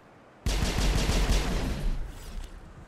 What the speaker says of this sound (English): That's a big turret.